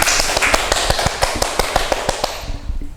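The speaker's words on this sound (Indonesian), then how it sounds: "boleh tepuk tangan" Audience clapping at an Indonesian school organisation event, a loud, close burst of sharp individual claps in a quick uneven rhythm, thinning out toward the end.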